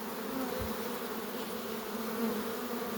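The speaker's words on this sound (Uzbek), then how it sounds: "Rasht eski arimizdan ro'y chiqdi" A honeybee swarm pours out of an old hive, making a dense, steady humming drone that stays close and even for the whole stretch, with no talking.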